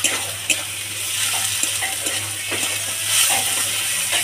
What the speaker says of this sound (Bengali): রসুন বাটা, বন্ধুরা এটাও ভালো করে ভাজবো